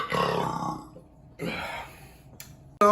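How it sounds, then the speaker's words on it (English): A man burps after drinking aged beer, two long guttural belches close to the microphone, separated by a short pause, with a sudden loud noise at the very end. "This is record burp time on this one"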